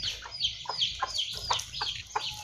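Chickens clucking nearby in a rapid series of short, repeated calls, with no one talking.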